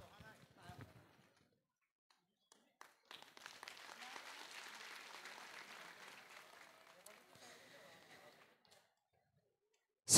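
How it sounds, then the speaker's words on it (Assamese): Audience applause at an outdoor prize-giving ceremony of a traditional Bhaona theatre festival, a faint patter of clapping swelling for several seconds then fading, with scattered claps and murmuring before. "হাত চাপৰি একাজলি কামনা কৰিছোঁ।"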